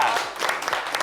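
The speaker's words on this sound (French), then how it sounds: "On applaudit." Brief burst of studio audience clapping on a French-language talk show, fairly loud and close, with voices talking over it.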